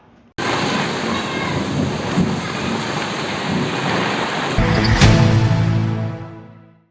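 Heavy rain pours in a dense, constant roar during a thunderstorm, with a loud thunder crack near the end before the sound fades out.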